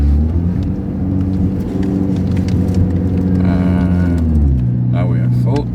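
A 2013 or later Ford Fusion engine hums loud and steady from inside the cabin while downshifting, with its pitch shifting near the end. Someone speaks over the engine.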